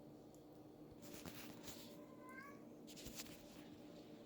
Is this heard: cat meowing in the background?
yes